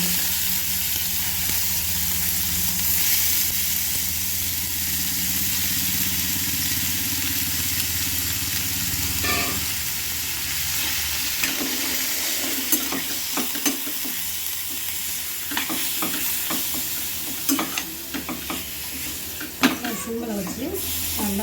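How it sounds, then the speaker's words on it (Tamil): Mutton frying in hot oil and being stirred, a loud continuous sizzle up close, with scraping stirs and sharp crackles growing busier toward the end. "மட்டனை போட்டு நல்லா வறுக்கணும்"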